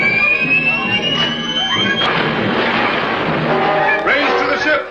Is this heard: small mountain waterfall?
no